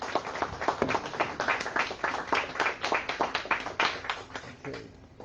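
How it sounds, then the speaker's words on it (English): Audience applause after a lecture by Steve Goreham, a moderate room of individual claps forming an uneven rhythm, fairly close and fading toward the end. "let's have another round of applause."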